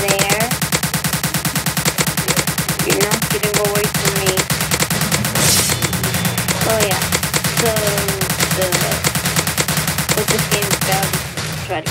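Rapid, continuous gunfire in a Roblox zombie game, loud and unbroken for the whole stretch, with a player's voice talking over it.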